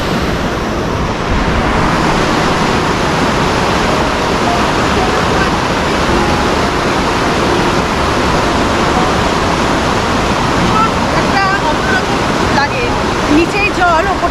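Water rushes beneath a footbridge in the Darjeeling hills of North Bengal, a loud, steady broadband roar that fills the whole stretch without letting up.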